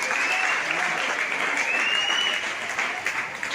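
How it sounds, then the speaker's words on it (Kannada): Students at a Kannada pre-university college function applaud loudly, a dense sustained wash of clapping from a large crowd, steady throughout with faint voices mixed in. "ವಿದ್ಯಾರ್ಥಿಗಳು ಜೋರಾಗಿ ಚಪ್ಪಾಳೆಯನ್ನು ತಟ್ಟಬೇಕು"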